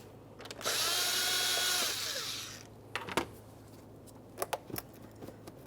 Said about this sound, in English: We're going to start loosening this 7mm headed clamp.